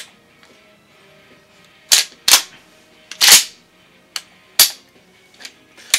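A Remington 870 12-gauge pump shotgun being racked and dry-fired, with several sharp, loud metallic clacks and snaps spaced irregularly over near silence.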